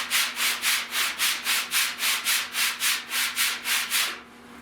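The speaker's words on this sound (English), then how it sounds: "is sanding like I'm starting to bust through here" Sanding block rubbing across a repaired auto body lower fender, about fourteen even back-and-forth strokes in a steady rhythm, close and clear, ending in quiet near the end.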